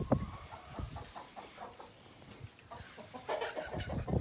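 Hens on a farm clucking in a busy, overlapping flock, with short irregular calls and a few louder squawks close by, a turkey kept among them, no talking.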